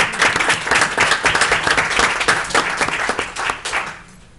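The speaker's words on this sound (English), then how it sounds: "A bit of applause" The audience at a village board meeting gives a round of applause, many hands clapping steadily at close range. The clapping thins and fades out over the last second.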